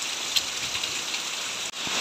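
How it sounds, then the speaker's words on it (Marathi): A sudden heavy downpour arrives after bright sunshine, a dense, steady hiss of rain drumming on surfaces with a few louder drops spattering close by, and no voices. "मस्त ऊन होतं, अचानक आला पाऊस एवढा."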